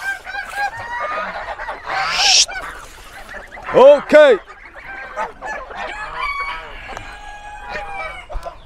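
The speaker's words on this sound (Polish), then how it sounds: "Łażą te kury pod girami." Chickens and geese cluck and honk around, with a loud double honk near the middle; a person speaks briefly over the farmyard noise.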